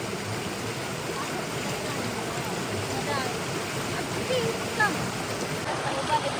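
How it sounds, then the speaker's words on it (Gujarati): Stream water rushes steadily and continuously, a dense close-up burble that fills the whole stretch with no pauses. "તમે ખાલી આ વોઇસ સાંભળો પાણીનો"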